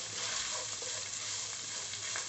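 Grated coconut frying in a pan on low flame, a steady soft sizzling hiss, close and faint, with no talking.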